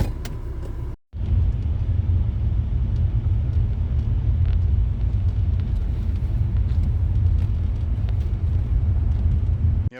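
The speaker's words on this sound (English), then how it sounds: "We packed our bag and got in the car and drove off." A car carries a family off on a short trip to the water, its steady low engine and road rumble droning throughout after a brief cut near the start, with no talking.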